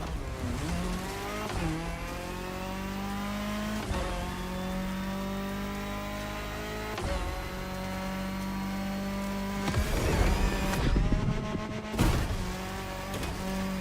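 Cars skid through turns in The Crew Motorfest racing game, a steady engine drone with shifting pitch carrying throughout, broken by louder bursts of tire noise near the end.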